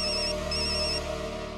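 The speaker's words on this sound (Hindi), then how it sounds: "जब तक आप फोन नहीं उठाएंगे वो फोन करता रहेगा।" A telephone rings with a bright electronic ringtone, repeating in short bursts over a steady tonal hum, fairly close and continuous, with no voices over it.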